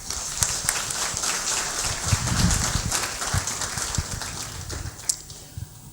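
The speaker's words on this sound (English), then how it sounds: "Can we give them a round of applause?" Audience applause at a web development cohort graduation ceremony, a continuous wash of many clapping hands with a few sharper claps on top, moderately loud and fading slightly toward the end.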